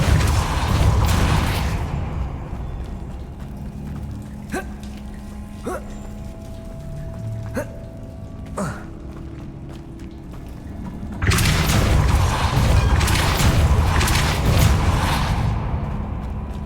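Depulso force spell cast in the wizarding game Hogwarts Legacy, a series of sharp thumping blasts and clicks over a rumbling ambient bed, with heavy loud stretches of rushing noise at the start and end.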